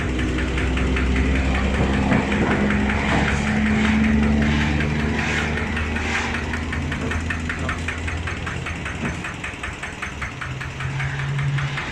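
A Kubota ZT100 diesel engine idles steadily with a knocking, rattling rhythm and mechanical vibration, loud and close throughout.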